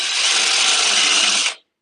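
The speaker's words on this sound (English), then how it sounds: "Sometimes the drill can wander as you're drilling." A power drill bores freehand at a craft demonstration, giving a steady, close, loud whirring grind for about a second and a half before it cuts off abruptly.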